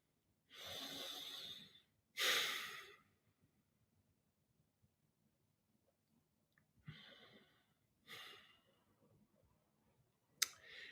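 Slow, deep breaths during a guided meditation, several distinct close inhales and exhales separated by long quiet pauses, soft and alone with no talking.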